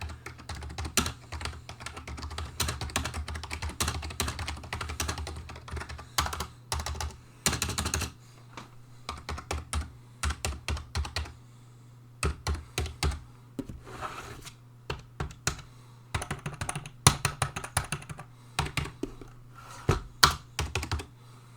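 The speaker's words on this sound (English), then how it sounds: "Here's a sound test of the Razer Cynosa V2." Typing on a Razer Cynosa V2 membrane keyboard: soft, muffled keystrokes in fast bursts and irregular runs, with brief pauses between flurries, close and alone.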